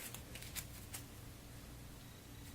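Warhammer Quest adventure game cards are shuffled by hand, a few faint, close riffling flicks in the first second, then quiet.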